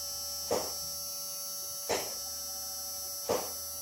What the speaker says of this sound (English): fuel pump primed